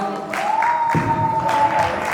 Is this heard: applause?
yes